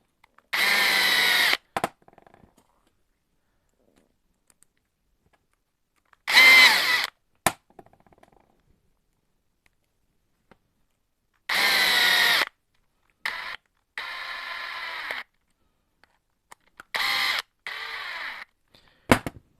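Power screwdriver tightening screws on a Hobao SC8 RC car, several short whirring bursts separated by quiet pauses, close and clear.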